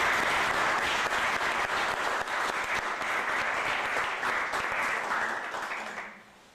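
Welcoming applause from an audience at a law faculty book presentation, dense sustained clapping that holds steady for several seconds before fading out quickly at the end.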